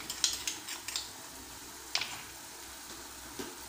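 Spice masala for shahi gobhi fries in a pan with a faint sizzle, while a spoon scrapes and clinks against the metal in a few sharp, irregular strokes, close by.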